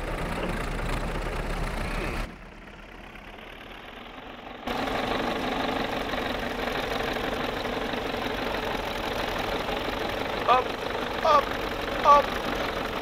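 A tractor engine idles and drones in the Farming Simulator game with a steady mid-pitched hum. The sound cuts out briefly and then resumes, a player talks over parts of it, and a few short clicks come near the end.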